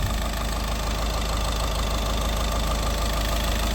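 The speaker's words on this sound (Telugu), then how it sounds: "ఇంజన్ బీటింగ్ ఒకసారి చూడండి." A 2013 Volkswagen Vento Highline diesel idles up close, a loud, steady low rumble with an even clattering beat and no voices over it.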